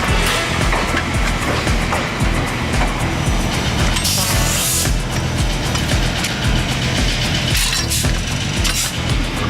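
VIA Rail train number 2 pulling out of Vancouver's Pacific Central Station, a steady loud rumble of rolling stock with clinks and rattles of the cars, continuous throughout with no talk.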